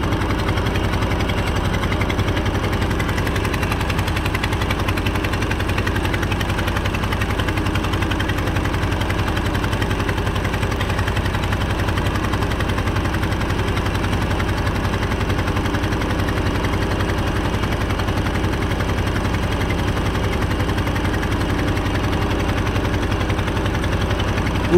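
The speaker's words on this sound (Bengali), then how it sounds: "নৌকায় মানে এমন একটা নৌকা যেটা মোটর চালিত নৌকা" A motor boat's engine drones steadily and loudly on the Hooghly river, a constant close mid-pitched rumble with no pauses across the whole stretch.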